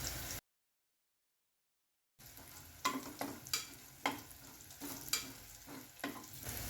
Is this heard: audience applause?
no